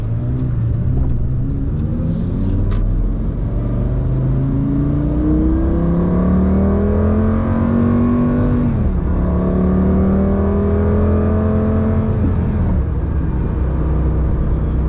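A Lamborghini Gallardo's factory 5.0 liter V10 accelerates hard through the gears from inside the car on back roads, its loud engine note climbing in pitch, dropping at a shift, then rising again steadily.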